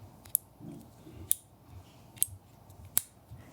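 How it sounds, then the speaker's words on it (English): A Modlite PL350 weapon light's switch gives four sharp, crisp clicks spaced roughly a second apart, close and distinct against a quiet background with faint rustling between presses. "it has a very positive and tactile click when you engage the light"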